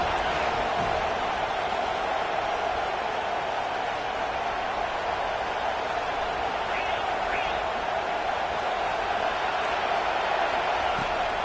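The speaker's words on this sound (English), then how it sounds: "This crowd bringing the energy and noise early." Stadium crowd at a Virginia Tech at Florida State college football game, a steady dense roar filling the whole stretch, loud and continuous without breaks.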